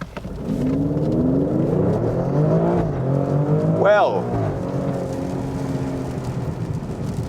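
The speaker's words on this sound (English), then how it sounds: "this is what full out acceleration feels like in this car" Maserati Grecale Trofeo SUV with a sports-car engine under full acceleration, a steady loud engine drone rising in pitch with a brief gear-change whine near the middle, heard from inside the cabin with a short spoken word at the start.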